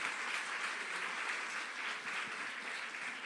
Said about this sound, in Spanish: Un fuerte aplauso.